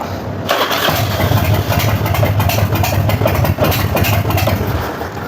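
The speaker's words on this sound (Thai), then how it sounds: "ก็ลองสตาร์ทเรียบร้อยว่า มันสตาร์ทได้ปกติ" A Toyota Dyna truck engine, just repaired with a loose bolt refitted, cranks and catches after a brief pause, then settles into a loud, steady, close idle with no talking.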